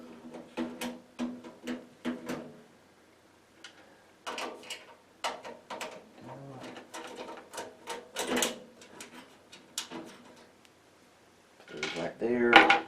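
Metallic clicks, clinks and scrapes as Phillips head screws are backed out of a Pentium 4 desktop computer case, coming in close irregular bursts with brief pauses, ending in a louder handling clatter.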